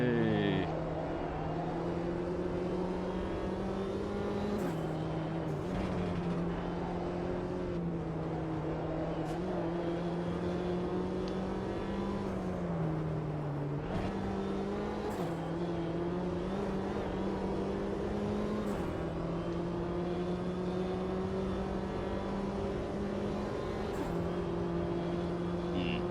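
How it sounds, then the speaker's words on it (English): A JCW Mini Cooper races at the Nordschleife in AMS2 with a steady, droning engine note that rises and dips with the gear changes, plus a continuous tonal whine that fits tyres squealing through corners. "those poor tyres were squealing"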